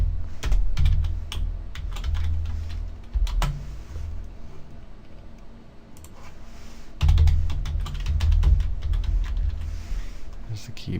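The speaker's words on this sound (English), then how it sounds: "There's the keyboard" Rapid clicking of keys on a computer keyboard in irregular bursts, close by, with a short pause in the middle before typing resumes.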